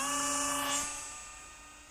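An Eachine 500mm P47D Thunderbolt RC model plane flies at half throttle. Its steady high-pitched electric motor whine is loud at first, then falls in pitch and fades as the plane moves away, with no voices.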